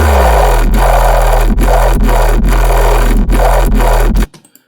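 A loud, gritty FM synthesizer growl bass made in Sytrus pulses in a rhythmic pattern, with about seven sharp dips, then cuts off into brief quiet.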